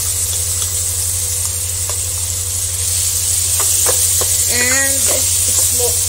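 Shrimp sautéing with tomato in a pan for ginisang monggo gives a steady close sizzle with stirring scrapes and a brief squeal-like tone partway through; no one speaks.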